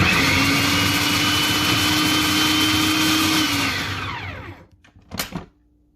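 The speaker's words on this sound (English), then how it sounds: "take your food processor, dump your potatoes in there, and we're just going to give it a spin" A food processor spins potatoes with a loud, steady motor whir that holds for several seconds, then winds down and stops, followed by a brief clunk of the lid or bowl.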